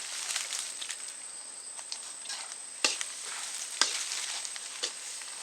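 Capsicum frying in a pan for egg chukka varuval, a steady close sizzle with occasional louder pops and spatters.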